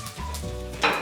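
A mango mixture is stirred in a sizzling pan, a short close burst of spoon scraping and hiss rising near the end over a low steady fry.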